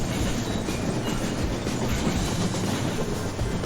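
A train in the Rolling Line model railway sim runs on track as it slows, with steady wheel clatter and rumble filling the whole stretch, close and loud, no talk.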